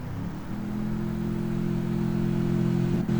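A motorbike engine in the Free Fire video game drones steadily for about three seconds, a loud, even mid-pitched hum that holds near-constant volume as the bike approaches, with no talking.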